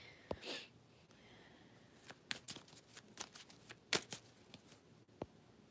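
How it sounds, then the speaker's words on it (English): Tarot cards shuffled by hand in a quiet room, giving a scattered run of soft riffling snaps and brisk papery clicks at close range, with no talking. "let me shuffle again"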